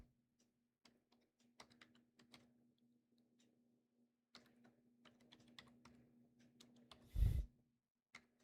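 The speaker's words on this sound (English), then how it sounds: "start typing some of these in." Keys clatter on a computer keyboard in quick irregular bursts with short pauses, faint and close, over a low steady hum, with one louder thump near the end.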